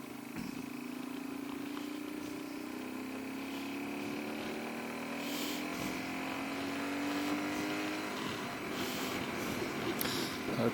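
A Yamaha XT225 motorcycle engine accelerates slowly, its single-cylinder drone rising steadily in pitch over several seconds, close and fairly loud, with wind rush in the background.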